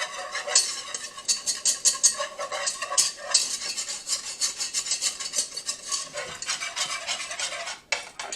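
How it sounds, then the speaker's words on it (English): Stirring a roux for alligator sauce piquant in a pot, with steady close scraping and rubbing strokes of a utensil against the pot bottom repeating in a busy rhythm throughout, no talk. "Now I've got to get that roux off the bottom because if I don't, it's going to burn."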